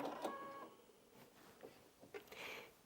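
A Brother Innov-is VQ2 sewing machine stitches in short bursts, with a quiet, close mechanical whir and clicks that start and stop.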